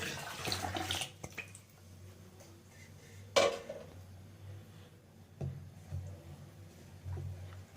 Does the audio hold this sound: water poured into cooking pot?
yes